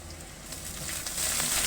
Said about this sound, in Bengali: এখন দিয়ে দেবো আমরা চিংড়ি মাছ